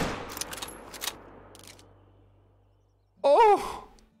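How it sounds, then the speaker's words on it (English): A single sharp, loud 7mm rifle shot at a bighorn in Call of the Wild rings out at the start and fades into a long echo, followed a few seconds later by a brief loud vocal exclamation. "We did take the shot with a 7mm as well"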